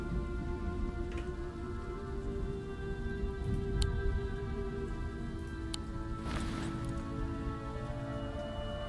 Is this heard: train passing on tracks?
no